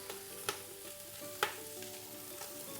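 Onions and sausage browning in a pan for a smoked-sausage rougail, a low steady sizzle running throughout with a couple of sharp utensil clinks against the pot.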